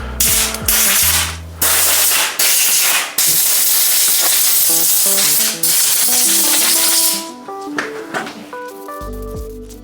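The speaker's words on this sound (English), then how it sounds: "Having some compressed air is a nice thing to have." Loud bursts of compressed air blast dirt from the parts of an old Giant hybrid bicycle, several long hissing sprays separated by short pauses, with a tonal melody underneath.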